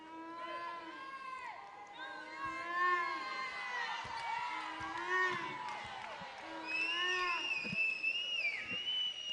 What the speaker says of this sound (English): you hear also in the crowd several artificial noisemakers